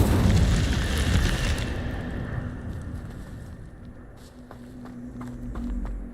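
An Incendio fire spell bursts with a loud, deep whoosh in Hogwarts Legacy, fading into a rumbling crackle with faint footsteps and ambient game sounds afterward.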